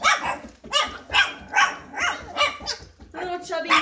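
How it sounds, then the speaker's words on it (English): A three-week-old blue female Cane Corso puppy lets out a rapid series of about eight short, high yappy barks and squeals close by, evenly spaced, with no talking. "This little blue female here, I mean, she is the queen of barking."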